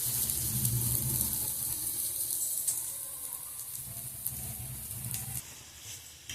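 Ragi adai cooks in a little oil on a pan over medium flame, making a constant close sizzle with soft crackles that fades slightly toward the end.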